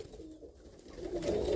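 Roller pigeons in a loft give a low, soft coo that swells toward the end, faint and close over a quiet rumbling background.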